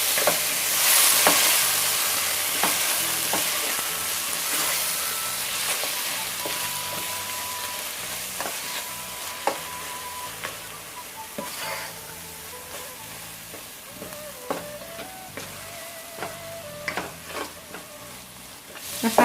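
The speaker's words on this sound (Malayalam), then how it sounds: "മസാല എല്ലാം ഒന്ന് വഴണ്ടി വന്നിട്ടുണ്ട്" Spice masala with Kashmiri chilli powder and garam masala fries for prawn dum biryani, a constant soft sizzle under irregular scraping strokes of a spoon against the pan, close and unaccompanied by talk.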